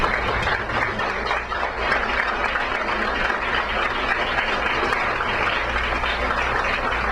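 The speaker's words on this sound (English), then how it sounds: "let's give them a round of applause" Audience at a breakfast of champions awards event gives a sustained round of applause for past winners, a steady dense wash of clapping filling the room for several seconds with no talk.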